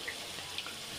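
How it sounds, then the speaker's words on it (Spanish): Potatoes frying in hot oil, browning in a pan for crispy fries: a steady, faint broadband sizzle with a few small pops, heard alone. "Ahí que se va friendo."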